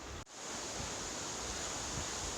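The west fork of the Wallowa River in the autumn Wallowa Range rushes with a steady broadband wash, close and continuous after a brief dip at the start.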